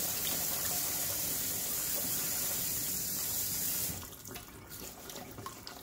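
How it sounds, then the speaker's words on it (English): Potatoes being rinsed under a running kitchen faucet, a steady close hiss of splashing water that softens and turns patchier near the end as the flow is disturbed, with no speech. "I'm going to give it a good rinse."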